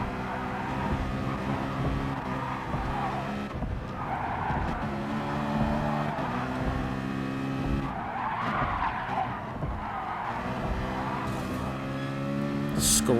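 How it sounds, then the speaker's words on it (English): A Citroen race car in GT Sport scrapes along the wall of the Tokyo circuit, a sustained grinding skid and tyre squeal over a loud, steady engine drone, with repeated surges. "Scrape of the Tokyo wall."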